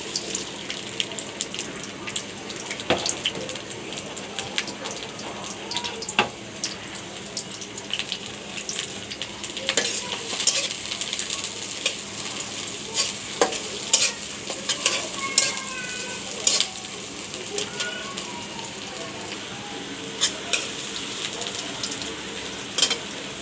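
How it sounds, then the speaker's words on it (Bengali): Sliced onion and green chili frying in mustard oil for a hilsa fish curry with pointed gourd, a steady sizzle with repeated scraping stirs and clinks of the spatula against the pan, close and continuous with no talk. "এখন আমি পেঁয়াজ কাঁচামরিচ ফালি দিয়ে দিচ্ছি।"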